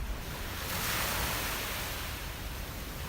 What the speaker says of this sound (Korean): 산호가 부서져 만들어진 모래사장 위에 얇게 퍼지는 파도 소리